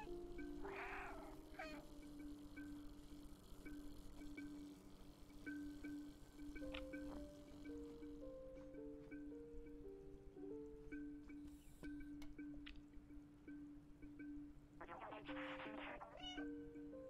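A cat meowing in the video game Stray, one clear meow early on and a second meow near the end, heard over quiet game ambience with steady tones and faint ticking.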